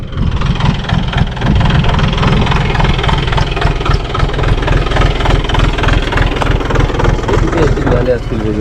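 A reassembled tractor engine idles at close range with a loud, steady, even rumble throughout, and voices talk over it.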